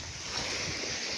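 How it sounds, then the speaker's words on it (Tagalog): Rough sea waves wash in a steady broadband rush with wind noise buffeting the microphone, brief and fairly faint. "Masungit po ang ating dagat."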